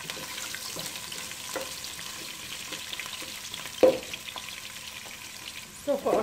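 Onion frying in oil with whole spices, a steady sizzle broken by scraping stirs and a couple of louder clatters of the spoon against the pot.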